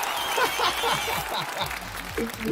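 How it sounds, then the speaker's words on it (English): A World of Warcraft stream's applause alert plays, applause and cheering coming through over a noisy background while someone talks excitedly on top of it. "Big applause there from Mesa."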